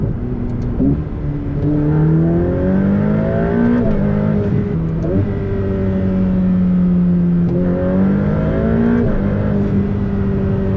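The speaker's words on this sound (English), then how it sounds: "I'm starting these pulls from like 50, 60 miles an hour, and it feels like I'm launching the car" A 2021 Ferrari F8 Tributo engine revs hard and climbs in pitch, dropping briefly at each paddle-shifted gear change before rising again, loud and close, repeated several times from 50-60 mph.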